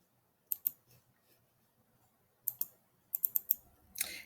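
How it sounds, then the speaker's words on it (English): A computer keyboard gets typed on in short clusters of sharp, close clicks with quiet pauses between the bursts, and no one speaks. "Let me type that in."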